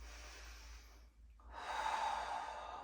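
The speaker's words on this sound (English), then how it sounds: "Just take some breaths." Steady breathing from a person holding a balance in a beginner Pilates exercise, soft breaths in and out close to the mic with a brief pause in the middle, no talking.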